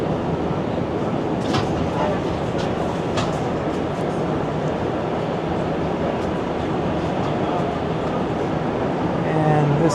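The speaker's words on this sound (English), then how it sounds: "And this subway system is entirely underground." A Montreal Metro subway train running through an underground tunnel, its loud continuous rumble and roar filling the whole stretch, with periodic clicks and clacks from the wheels and a voice talking faintly beneath.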